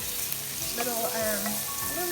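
Continuous sizzling of garlic frying in a pan, a bright crackling hiss held steady throughout, with a faint voice murmuring underneath.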